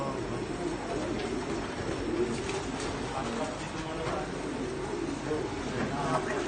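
Many pigeons coo and burble continuously in a loft in Baclaran, Parañaque, a dense layered murmur of bird calls with faint movement mixed in.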